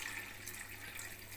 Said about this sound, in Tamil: இப்போ நம்ம தண்ணி சேர்த்தாச்சு